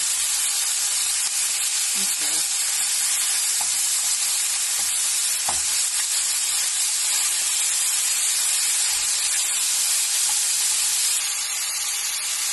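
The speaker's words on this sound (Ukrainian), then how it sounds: "Уже в розігріту сковорідку додала олії і та обсмажую м'ясо." Loud, steady sizzling of meat frying in oil in a preheated pan, a dense hiss throughout with occasional clicks and scrapes of stirring.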